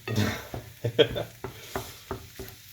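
Onions cooking in a pan, probably for a tuna and onion quiche: a soft sizzle under a series of close spoon knocks and scrapes against the pan, each stroke sharp and spaced about half a second apart.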